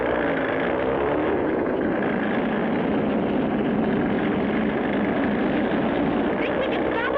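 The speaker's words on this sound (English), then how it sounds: "That's a specially built oil tanker plane." In an old cartoon, a specially built oil tanker plane takes off. A steady, droning engine roar holds at an even, moderately loud level for several seconds, with nothing else standing out over it.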